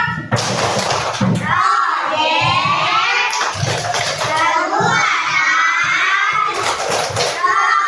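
Schoolchildren in an Indonesian classroom take part in a class clapping chant led by their teacher, heard as loud, continuous children's shouting and chanting voices with bursts of rhythmic noise filling the whole stretch.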